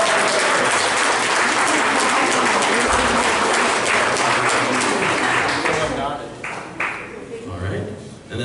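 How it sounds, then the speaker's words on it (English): Audience at an art competition event applauding, a dense sustained wash of clapping that fades in the last couple of seconds as a voice begins speaking. "So big round of applause for our friends."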